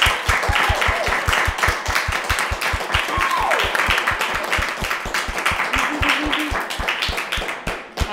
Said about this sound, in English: And one big round of applause for Chanel, Maria and Jess